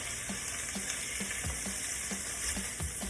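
Turkey burgers frying in a pan, a steady close sizzle with soft regular crackles and faint clicks running throughout, no voices.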